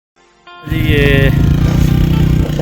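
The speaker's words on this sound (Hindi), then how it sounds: "मोटरसाइकिल फंस चुका है" A motorcycle stuck on rough ground outdoors revs loud and close, its engine roaring with a heavy throbbing rumble after a quiet start, while someone talks over it.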